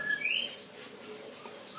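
Canaries in a home breeding setup give a short bright chirp near the start, followed by faint high tweets against a quiet background.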